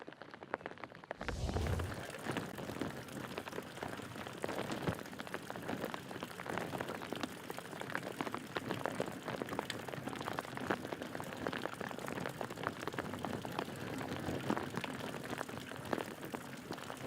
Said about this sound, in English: the rain is still continuing to fall here at Sunset Lakes